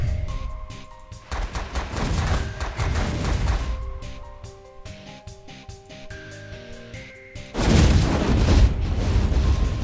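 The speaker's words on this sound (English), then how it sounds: "So I'm going to fire at this point here." Gunfire in a video game played on hard mode while driving and shooting, volleys of shots and booms rising and falling, ending in a loud sustained burst.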